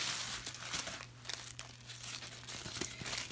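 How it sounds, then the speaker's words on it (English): Tissue paper crinkles and tears as a 2017 Hallmark Star Trek ornament is unwrapped, close-up rustling in bursts with sharp crackles throughout. "Carefully wrapped in tissue paper."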